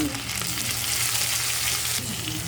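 Pork sizzles loudly in a pan with onion and chili, a dense, steady frying hiss with stirring and no speech.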